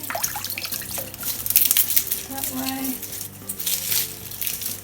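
Tap water runs and splashes over lemongrass stalks in a sink, a close, steady trickle with light crinkling as the stems are handled, while a person talks over it.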